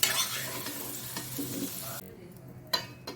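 Potatoes frying in oil in a home kitchen pan, a dense steady sizzle with stirring scrapes that quiets near the end before a short clatter.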